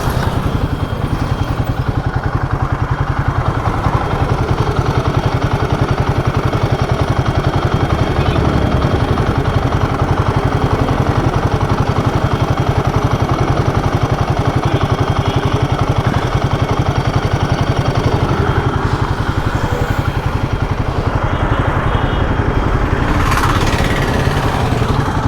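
A Royal Enfield Himalayan 450 motorcycle engine idles close by with a steady, even chugging rumble and mechanical clatter. It runs continuously with slight variation, and the bike has a coolant leak.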